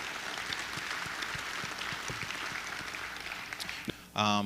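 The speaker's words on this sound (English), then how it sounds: "So please give yourselves a round of applause for your work on that" Conference audience applauds steadily for about four seconds in a large room, a dense even patter of clapping that ends in a brief burst of another sound.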